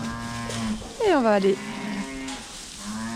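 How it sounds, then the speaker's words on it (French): Heavily pregnant ewes are penned in a barn. One loud, drawn-out bleat rises clearly in the middle, framed by a person speaking French before and after. "ce ne sont que des brebis qui sont très grosses et qui vont avoir bientôt un agneau"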